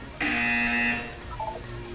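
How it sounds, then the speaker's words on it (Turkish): A loud electronic buzzer in the video game Portal 2 sounds once for just under a second, followed by a short two-note electronic chime over quiet background noise. "When you hear the buzzer"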